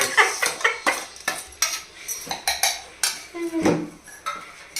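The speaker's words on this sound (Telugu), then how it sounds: "ఇప్పుడు చిన్న రోట్లో వేసి చేస్తున్నాను ఈ పచ్చడి" Garlic chutney pounded in a small stone mortar, a steady run of sharp stone-on-stone strikes with a brief clatter near the end.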